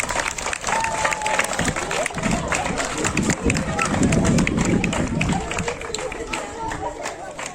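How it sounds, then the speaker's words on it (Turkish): At a Republic Day school ceremony in a middle school, a room full of children applauds a pupil with sustained, dense clapping that swells and continues throughout, with voices chattering underneath. "Özhan'ı bir alkışlayın bakayım."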